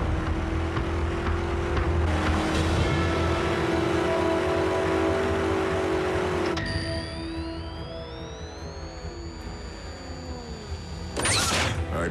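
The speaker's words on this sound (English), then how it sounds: "I'd know the hum of that engine anywhere." A vehicle engine hums in the animated series Transformers: Prime. A steady, droning mechanical tone shifts and rises in pitch partway through, then ends in a short whooshing swell, with no talk over it.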